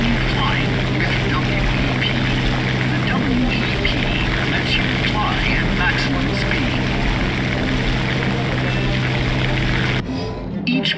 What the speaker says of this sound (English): Increase it if you increase the throttle until war emergency power is enabled.